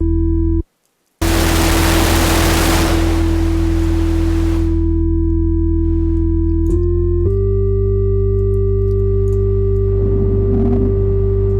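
Harmonized sine-wave tones from Bitwig's FM-4 synthesizer hold steady while a loud burst of bright noise washes over them for a few seconds and fades, then the tones shift pitch in small steps.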